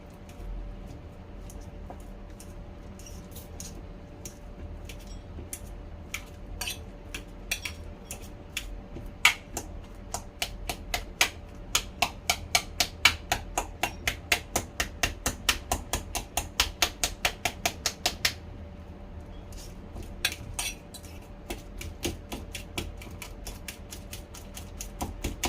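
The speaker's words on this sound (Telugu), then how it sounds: "ఫోర్క్ తోటి ఇలాగా చితక కొట్టుకోవాలి" Bananas mashed with a fork for banana cake: rapid rhythmic metal taps against a bowl, fast and regular in the middle, slowing and thinning out at the end, close and clear.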